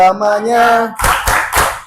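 A group of schoolchildren claps several sharp, loud, rhythmic claps in unison as part of a tolerance clap, right after a short sung phrase.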